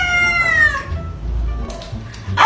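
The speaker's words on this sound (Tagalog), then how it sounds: "Ay! May pusa pala kayo?" A house cat gives one drawn-out, clear meow close by, falling in pitch and then trailing off, followed by low rumbling room noise and a brief voice at the end.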